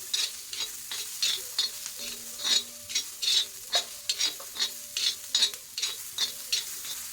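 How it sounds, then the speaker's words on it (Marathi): Crushed garlic cloves sauté on a pan, a steady light sizzle punctuated by a regular rhythm of scraping spatula strokes, close and clear with no talking. "आता त्या लसणीच्या ठेचलेल्या पाकळ्यात त्या टाकू"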